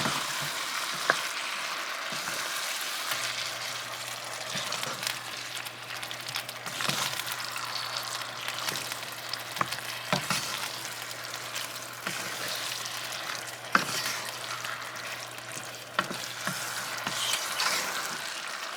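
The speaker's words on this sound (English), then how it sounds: "Let it simmer for another few minutes." Chicken teriyaki simmers in a pan with a steady, low bubbling sizzle and scattered small pops, heard close and continuous for a long stretch with no voices.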